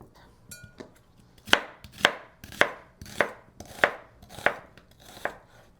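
Knife chopping a Vidalia onion on a board, seven crisp, evenly spaced thuds about half a second apart, close and clear with no talking.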